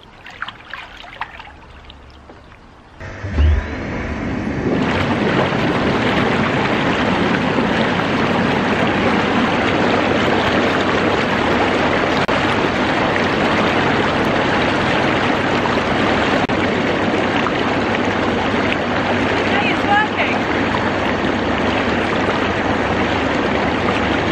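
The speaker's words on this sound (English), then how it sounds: "as you can probably hear in the background, the filter's making a horrible crunchy noise" Bath water in a jacuzzi falls quiet, then the bubble jets kick in with a sudden thump and keep roaring as a loud, constant, frothy rush, with a gritty, crunchy noise from a faulty filter mixed into it.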